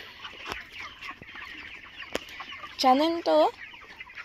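Farm chickens on a village poultry farm cluck in two loud, close bursts near the end, over a low background murmur; a voice speaks briefly beforehand.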